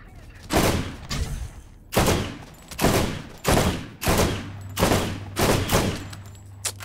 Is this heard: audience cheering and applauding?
no